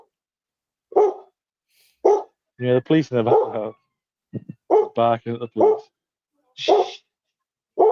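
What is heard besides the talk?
dog barking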